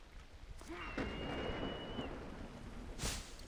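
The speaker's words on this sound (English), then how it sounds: "Storm and rain." Rain and a storm in the video game Assassin's Creed Odyssey: steady rainfall hisses on surfaces with low rumbling thunder beneath, a brief whistling tone passing through, and a sharper crack near the end.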